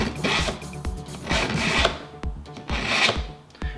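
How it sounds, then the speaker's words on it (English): A kitchen knife is drawn through the coarse side of a two-slot knife sharpener in three rasping strokes, each followed by a light tick. The sound is close and clear, with no talk. "This one has 2 different edges. It's got a coarse side. Just gonna run it through there a few times."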